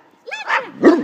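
A dog gives a couple of sharp barks on command during a training session, loud and close with no other sounds.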